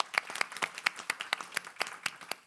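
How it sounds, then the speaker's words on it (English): A small audience at a data-for-development launch event claps for a presenter, a thin, fairly sparse patter of individual hand claps with distinct separate strikes, quiet and brief. "Maybe we give her an applause."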